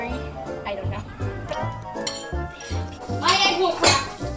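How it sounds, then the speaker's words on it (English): Children chop boiled eggs in a dish with cutlery, producing repeated clinks and scrapes of metal against crockery in an uneven rhythm, with busy background chatter. "I'm chopping the eggs very"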